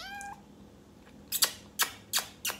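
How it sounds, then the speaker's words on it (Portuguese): A cat that is afraid of heights lets out one short, close meow, followed by four quick rustling bursts as it is lifted up. No one speaks. "É uma gata que tem medo de altura, onde já se viu?"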